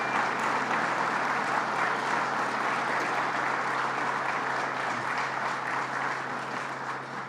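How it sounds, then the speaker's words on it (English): Steady applause from a large audience at a political announcement about saving Alcoa jobs in the North Country, continuous and even for several seconds, fading slightly toward the end. "Let's give them a round of applause again."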